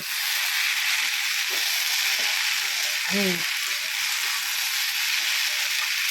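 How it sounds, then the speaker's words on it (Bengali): Food fries in a pan while being pressed down, giving a steady, loud sizzle that runs throughout, with a brief hum from a voice midway. "চাপা দিয়ে দিয়ে ভাজছি তাড়াতাড়ি হয়ে যাবে"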